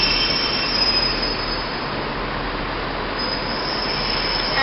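Steady loud rumble and squealing of a train waiting at a platform in Manchester Piccadilly station, continuous broadband noise with no pauses and no voices.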